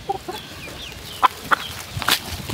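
A bulik gamefowl broodstag gives a few short, sharp clucks spaced apart, close by over a quiet farmyard background, with no talking.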